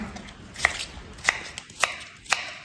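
A knife chops cucumber on a board for idli batter, four sharp, evenly spaced chops close by, each a crisp thunk against a quiet background.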